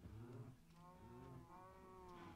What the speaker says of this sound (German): Deine Kuhproduktion macht Mu.